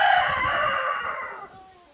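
A rooster crows loudly nearby in one long, drawn-out call that tapers off, with faint clucking from other chickens underneath.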